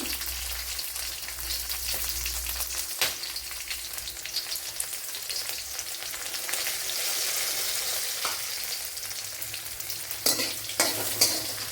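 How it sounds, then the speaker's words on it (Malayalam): Green chillies, chopped garlic and a small piece of ginger sizzling and sautéing in a hot pan, a continuous close frying crackle with occasional stirring scrapes, no voices. "ഇത്രയൊന്ന് നല്ലതുപോലെ ഒന്ന് മൂപ്പിച്ചെടുക്കുക"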